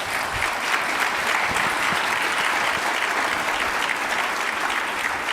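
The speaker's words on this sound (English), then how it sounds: "Well, they've already applauded you," Conference audience applauding, a dense steady wash of clapping from many hands throughout, moderately loud with no speech over it.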